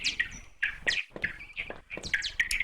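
Bats squeaking inside a video game cave: rapid high chirps and twittering squeaks in quick irregular bursts, fairly faint, with no talk over them.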